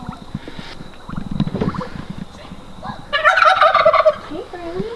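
A pet hen settled in her coop for the night lets out a loud burst of clucking and gobble-like calls near the end, after softer rustling and quiet shuffling.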